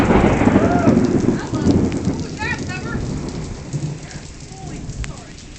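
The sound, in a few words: rain and thunder in Ocean City, NJ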